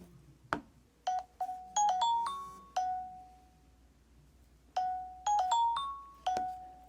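Microsoft Surface Duo phone sounding its incoming-call ringtone, a bright melodic chime of short rising tonal notes in two bursts separated by a pause, clear and close in a quiet room.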